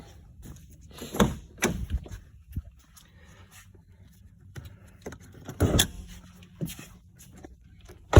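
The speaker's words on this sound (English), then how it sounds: "I gotta pop the hood though." Hood release and latch of a 2009–2015 Nissan Maxima 3.5L V6 during an oil change: a few sharp mechanical clunks and thumps, near and moderately loud, separated by quiet shuffling, with no talk.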